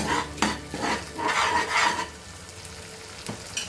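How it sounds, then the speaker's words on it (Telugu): Tomato sauce frying in a pan for red sauce pasta, with a steady sizzle under several scraping strokes of a spoon stirring, close and alone. "వేగిపోయిన తర్వాత మనం దీంట్లోకి టమాటో సాస్ వేసుకుందాం."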